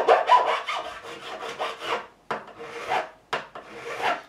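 Metal file scraping along guitar frets during a fret level on a Tanglewood Nashville V acoustic, a fast run of rasping back-and-forth strokes followed by a few slower, longer single strokes, close and clear with no talking.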